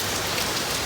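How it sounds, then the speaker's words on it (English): Heavy rain falls on a roof and patio, a dense, even hiss of drops close by with no other sound, in a brief steady burst. "The rain has intensified."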